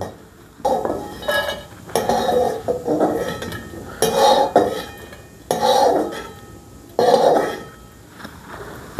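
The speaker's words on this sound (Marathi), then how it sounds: "आता ते खोबरं आपण काढून घेऊया." Roasted coconut is scraped out of a cooking pan with a utensil in about six distinct, evenly spaced metallic scraping strokes, close and moderately loud, with quiet pauses between them.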